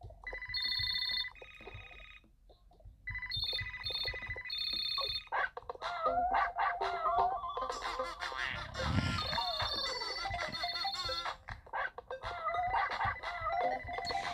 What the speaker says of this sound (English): It's literally ringing.